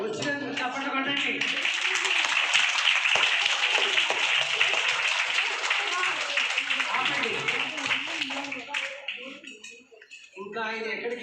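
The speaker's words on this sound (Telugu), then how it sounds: "వచ్చినందుకు చప్పట్లు కొట్టండి." An audience at a motivational speech breaks into sustained, dense clapping lasting several seconds, with a speaking voice heard just before and after the applause.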